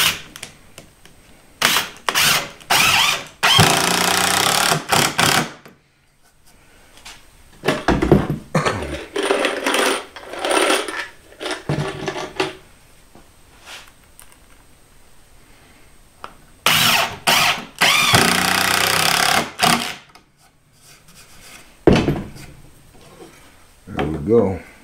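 A power driver sinking 2.5-inch construction screws into wood for a shop storage cart, several loud whirring bursts in two groups separated by pauses with quieter handling noise between.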